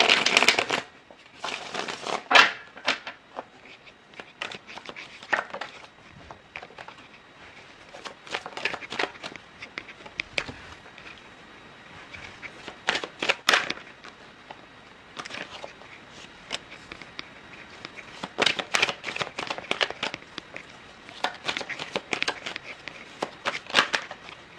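Tarot cards being shuffled by hand in loose crackling bursts with pauses between them, close and fairly quiet, with no talking.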